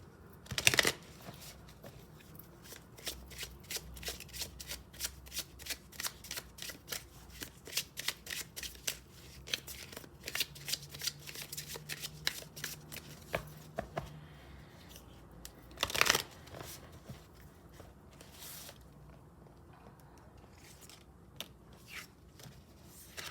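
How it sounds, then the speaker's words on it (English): Oracle cards being shuffled and drawn at a tarot-style reading, a long run of quick riffling bursts and soft card snaps, close and fairly quiet, with two louder shuffles near the start and middle and no talking. "I'm going to be drawing cards from the oracle messages"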